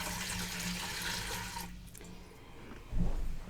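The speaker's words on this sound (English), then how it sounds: "So I'm going to pour 2 more cups of water in." Two cups of water poured into a Nesco smart canner make a close, steady splashing trickle that stops briefly and then resumes with a louder gush, with no voices.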